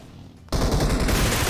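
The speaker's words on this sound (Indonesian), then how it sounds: "Kan suara tembak ya?" Rapid gunfire bursts out in a battle royale video game, a dense, continuous volley that begins abruptly after a quieter half-second and stays loud to the end.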